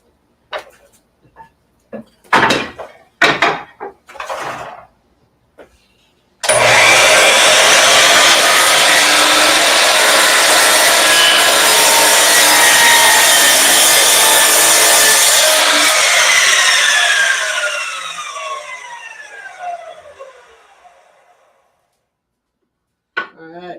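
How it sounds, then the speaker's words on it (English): A miter saw cuts through wood in a home workshop: a few clicks and knocks, then a loud, steady whining rip for about ten seconds that winds down slowly as the blade spins to a stop. "I'm going to hit the miter saw."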